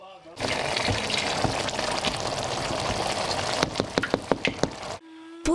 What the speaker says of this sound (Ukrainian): просмажені на пательні овочі закидають в кастрюлю, смажитись на півгодини